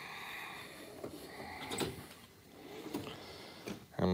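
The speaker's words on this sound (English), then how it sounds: "Here's my screwdriver and bit drawer." A screwdriver and bit drawer on a tool cart in a garage sliding open, with a few distinct metallic clunks and rattles spread across the clip, fairly quiet and close, with no talking.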